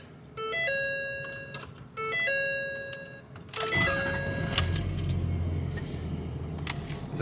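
A 2015 Ford F-250 pickup is switched on: two electronic chime sequences ring out, followed by a click and the engine cranking and settling into a steady low idle.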